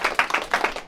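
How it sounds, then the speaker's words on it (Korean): A few people clap at a Korean education briefing session in Jeonju, brief bursts of hand claps in an uneven rhythm, close and fairly loud, no talk over them. "박수 한번 쳐주세요."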